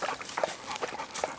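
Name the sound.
happy thirsty dog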